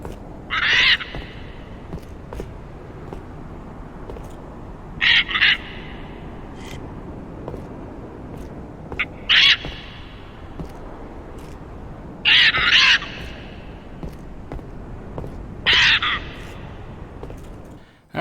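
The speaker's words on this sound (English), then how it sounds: "that is what the cockatoo sounds like" Unused cockatoo bird sound effects from the video game Halo 3: five loud, harsh squawks spaced a few seconds apart over a low ambient background.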